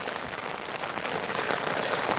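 Steady rain falls in Tirunelveli, a dense, even hiss of drops on surfaces that fills the whole stretch without pause, close and moderately loud with no voices.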